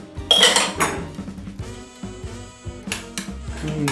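Two metal spoons clink and scrape against a dish while meringue is spooned onto a banana pudding made with Nilla wafers, giving a quick series of close, bright taps and scrapes.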